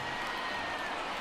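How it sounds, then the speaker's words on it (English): A stadium crowd in MLB The Show 19 rises for a full 3-2 count, giving a steady, distant wash of cheering and applause that holds at an even level throughout. "Crowd gets up for the 3-2."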